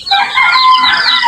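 Chickens kept in a pen with geese give a loud, close, drawn-out cackling call that lasts about a second.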